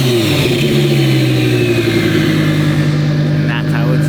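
A twin-turbo Lamborghini Huracan Performante, built for over 2,000 horsepower, revs loud and close, its thick harmonic engine note holding a steady, rising drone throughout.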